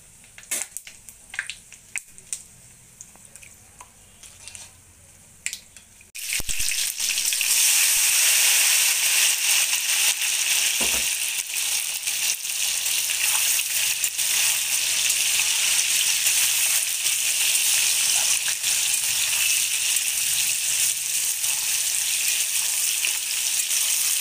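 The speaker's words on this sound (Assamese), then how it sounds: "তেলখিনি গৰম হৈ গৈছে। এতিয়া মই 5 ফোৰণ অলপমান দিলোঁ।" Panch phoron and dried chilli hit hot oil for a sweet, sour and spicy mango pickle. A few quiet clinks come first, then a sudden loud, crackling sizzle bursts out and keeps going strongly.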